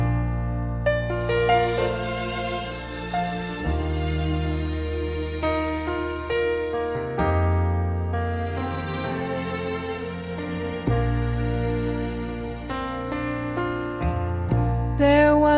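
A song plays as a steady, full musical recording with sustained melodic lines and shifting chords across the whole stretch, loud and continuous with no talk over it.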